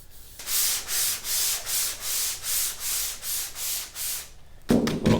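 Hand sanding of filler primer on a car roof, about ten even back-and-forth strokes in a steady rhythm, close and crisp, ending in a brief louder shuffle.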